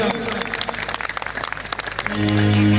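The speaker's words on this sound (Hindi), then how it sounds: "तालियां जोरदार" Audience at an evening devotional gathering in Bareilly breaks into clapping, a loud burst of claps that fades after about two seconds as a sustained musical tone swells in.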